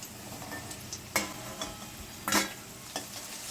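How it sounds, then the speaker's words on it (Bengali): Okra sizzles steadily in a hot pan, with a few scraping stirs and clinks of a utensil, close by and without voices. "এইদিকে ভেন্ডি ভাজা হচ্ছে"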